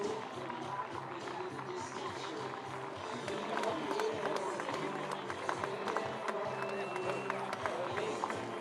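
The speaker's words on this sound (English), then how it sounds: "Fans with some applause, glad to see her up and on her feet." Scattered applause from fans in the stands at a women's professional baseball game, a steady moderate crowd wash with light clapping and murmuring throughout, no single burst standing out.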